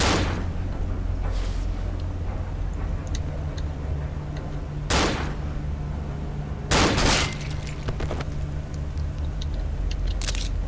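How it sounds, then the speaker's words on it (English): Gunshots in the horror video game Cry of Fear: three sharp, loud bursts spaced a few seconds apart, the last one slightly longer, over a steady background hum with faint ticking. "Did I just headshot him?"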